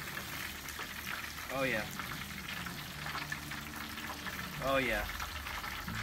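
A turkey deep frying in a pot of hot oil gives a steady bubbling sizzle throughout, with a voice speaking briefly over it twice.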